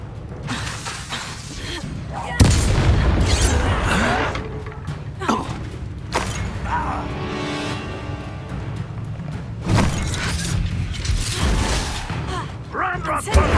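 Repeated Incendio fire spells cast in combat in Hogwarts Legacy land as sharp shattering bursts and thuds amid a busy battle, with a spoken voice and shouts over the crackle and clatter.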